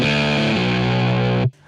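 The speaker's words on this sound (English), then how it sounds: "let's say I want to record it through this guitar amp" Clavinet chords pushed through a guitar amp plugin, sounding gritty and distorted; a sustained, loud harmonic tone holds with one chord change near the middle, then cuts off abruptly, leaving a short decaying tail.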